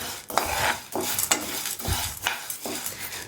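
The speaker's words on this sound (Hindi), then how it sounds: "अब इसको चलाते हुए करीब 2 मिनट तक भून लेना है।" Lentils (dal) stirred and dry-roasted in a pan, giving a steady run of scraping, rustling stirs with light sizzle and occasional spoon knocks against the pan, close and fairly loud with no talk.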